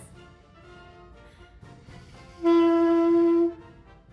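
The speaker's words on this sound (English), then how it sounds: "All together, the saxophone is going to sound like this." After a quiet moment, a saxophone sounds one steady, loud sustained note for about a second, rich in harmonics.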